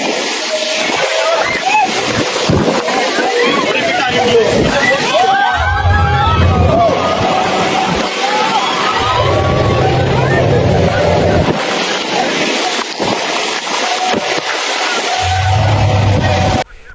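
A tourist speedboat pounds through three-metre storm waves: a loud engine drone with splashing spray and wind buffeting, while a crowd of passengers shouts and screams over the churning water.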